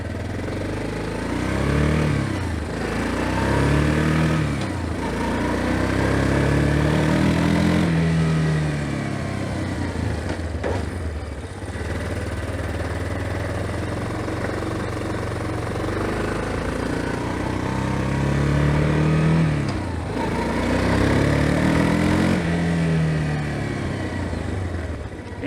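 A Yamaha Big Bear ATV engine runs steadily while being ridden, with repeated rises and falls in revs and a continuous mid-level drone throughout; no talking.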